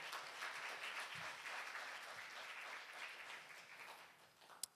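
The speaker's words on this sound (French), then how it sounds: "J'aimerais entendre un grand amen, un applaudissement à Jésus qui est parmi nous." A church congregation applauds together during a worship celebration, a steady, fairly faint wash of clapping that fills the whole stretch, ending with one sharp louder clap.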